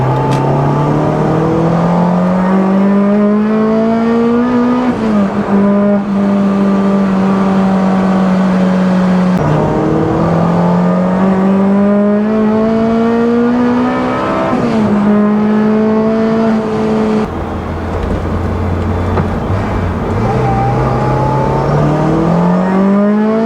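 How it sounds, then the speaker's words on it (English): A Honda S2000 with a boosted VTEC engine revs hard to high rpm, its loud rising whine climbing in repeated pulls with brief drops at each gear change, heard close from inside the car with no talk. "a VTEC engine sounds pretty good at high revs"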